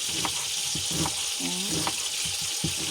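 Onion halves fry in a pan with a steady, hissing sizzle, broken by occasional soft clicks and scrapes of stirring, close and continuous.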